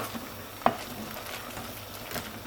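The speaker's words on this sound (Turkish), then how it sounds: "Tereyağı ile birlikte şöyle bir kavuracağım." Butter sizzles softly in a pan over high heat, a faint steady crackle with one sharp clink of a utensil early on.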